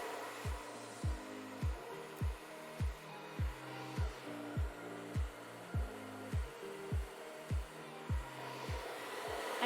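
A hair dryer hums steadily at close range while hair is blow-dried over a brush, with a regular thumping pulse about twice a second running underneath and no talking.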